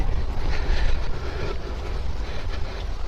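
A train crosses a railway bridge near Trent Lock, rumbling steadily nearby with low, continuous rolling noise and some wind buffeting, no voices.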